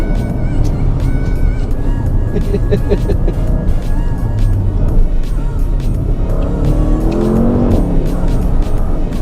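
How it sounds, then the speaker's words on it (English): A 2017 Porsche Panamera Turbo engine roars continuously at high revs while driving fast on tight roads, loud and close, with gear shifts and rising engine pitch. "I can't believe that I'm driving that fast with a car like this in such tight roads."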